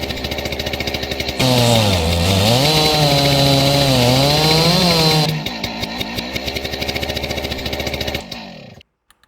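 A video game chainsaw in a metal and hauling simulator idles with a steady rattling putter, revs up into a loud, wavering whine for several seconds while cutting, then drops back to a chugging idle before cutting off.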